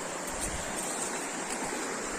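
A river flows near a high waterfall in the Philippines, a steady broadband rush of moving water that is dense and continuous, with no voices.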